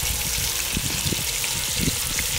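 Cut-up chicken pieces fry in bacon grease inside a Dutch oven, a dense continuous crackling sizzle held at an even level with no talking.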